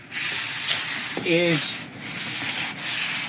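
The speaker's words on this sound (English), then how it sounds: "I'm just sanding lightly here." Steady, soft rhythmic rubbing of sandpaper on a soft pad, lightly sanding 100-year-old reclaimed floorboards by hand, close and continuous, with a brief spoken word partway through.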